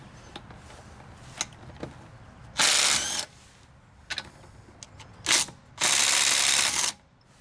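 A Ridgid subcompact brushless impact driver removes lug nuts in two loud, close hammering bursts of about a second each, separated by scattered clicks, clanks and handling noises.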